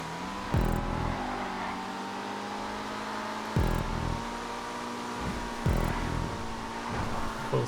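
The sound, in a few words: car engine at full throttle in video game GTA 5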